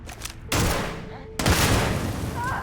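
In the Starfield video game, a pressurized explosive container blows up. Two loud, sharp blasts about a second apart each trail off into a rumbling, crackling tail.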